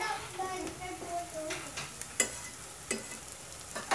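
Stuffed capsicum sizzling in a pan as it is turned over, a steady fry hiss broken by a few sharp clinks and scrapes of a utensil against the pan.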